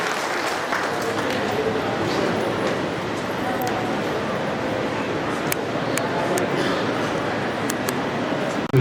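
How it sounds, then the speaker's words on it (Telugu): A seated crowd at a Rajanna Sircilla government housing event claps steadily in sustained applause for Indiramma housing beneficiaries, a dense continuous patter throughout with faint voices mixed in. "ప్రత్యేకించి చప్పట్లతోటి కృతజ్ఞత తెలియజేసిగా మనం వేస్తున్నాం"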